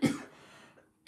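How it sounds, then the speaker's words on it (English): A single short cough at the start, fairly close and loud, followed by a quieter tail and a second burst at the very end, with no speech over it. "had to cough up then"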